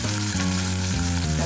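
Chicken meatballs going into a hot pot for a misua and patola soup, with a steady loud sizzle and bubbling throughout and no voices.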